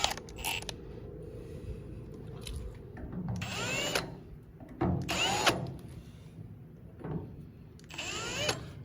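A power drill bit spins against a horse trailer's mounting hole to make witness marks: several short, whirring bursts with rising and falling pitch, separated by pauses with faint creaks and handling noise.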